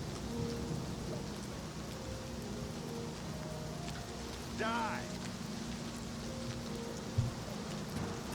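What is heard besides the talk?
rain falling in the video game Oblivion Remastered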